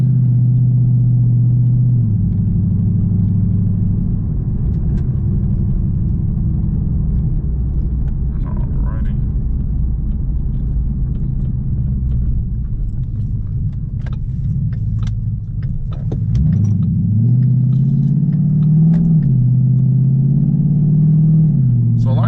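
A Ford 5.0 fitted with a Ford Performance Stage 3 kit drives along with a deep, steady engine rumble that rises and falls as it shifts and accelerates, heard loud from inside the cabin with faint jingling.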